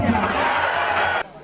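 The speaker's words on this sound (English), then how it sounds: "The massive crowd cheered as he came with a message of hope" A massive crowd cheers at party headquarters as a popular parliamentary candidate arrives to file his nomination, a dense, loud roar of voices that holds steady and then cuts off abruptly near the end.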